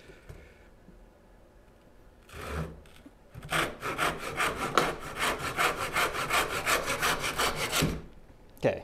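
A small hand saw cuts a piece of wood, starting with a few tentative scrapes and then settling into a fast run of rhythmic rasping strokes, close and clear, before stopping.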